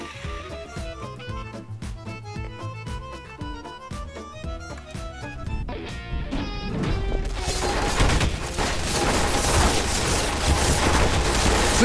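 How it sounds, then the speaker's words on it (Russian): Gunfire in the sandbox video game Garry's Mod, a rapid stream of close sharp shots and bursts with a steady beat, turning into louder, denser, noisy crashing fire toward the end. "Слышь, ты чё стреляешь по мне?"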